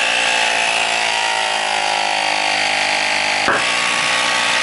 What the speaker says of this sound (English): I've got myself a portable pump and get this piston out